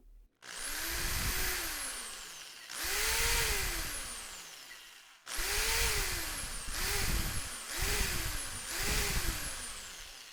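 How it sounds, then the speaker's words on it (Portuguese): A power drill plugged into a circuit with an arc-fault circuit interrupter revs up and winds down in about six close, loud bursts, its whine rising and falling with each pull of the trigger. "nós vamos ligar uma furadeira aqui na saída para ver como é que ele se comporta"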